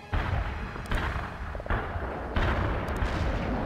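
Artillery strike in the real-time strategy game World in Conflict: a sustained roar of heavy booming blasts, with several fresh impacts surging the rumble at intervals and a dense, loud wash of explosions throughout.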